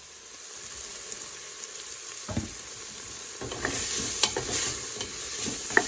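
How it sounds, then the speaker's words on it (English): Onions and celery sauté in a pan for a Moroccan vegetable soup, giving a soft steady sizzle that grows louder with scraping stirring strokes in the second half. "After the onions and the celery, saute a little bit."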